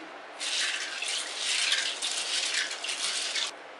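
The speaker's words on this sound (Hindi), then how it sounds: "पानी डाल के इसे अच्छे से 2 से 3 बार धो लेते हैं।" Black-eyed beans being washed in water in a bowl: close sloshing and swirling splashes that come in a couple of bursts, with no voices.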